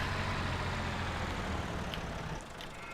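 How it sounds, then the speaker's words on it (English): A Massey Ferguson 240 tractor idles in the Farming Simulator 17 video game, giving a steady, dense diesel rumble that holds close and loud throughout and eases off slightly at the end. "Yep, this Massey Ferguson 240. Awesome tractor."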